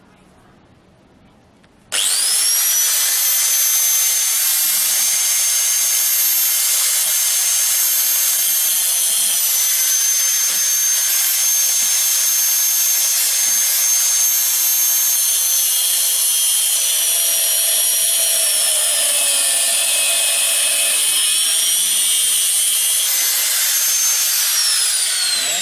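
A handheld angle grinder cuts through metal, starting abruptly and holding a loud, steady high-pitched whine for over twenty seconds, the pitch sagging slightly under load before recovering, with no talk over it.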